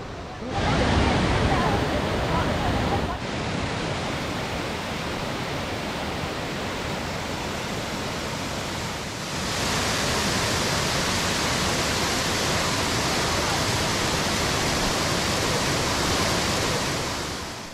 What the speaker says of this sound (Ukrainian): І, звичайно, водоспад Кравіца.